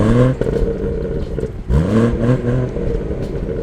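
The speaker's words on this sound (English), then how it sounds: "Have a listen to this exhaust." Revs from the dual exhaust of a 2020 BMW M240i with manual gearbox, loud and close, with sharp blips that rise and fall, a brief dip, then another strong rev before settling.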